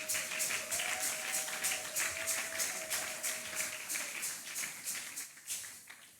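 Church congregation applauding during a Sunday worship service, a dense, steady burst of many hands clapping that runs for several seconds with a faint sustained tone underneath, then thins out toward the end.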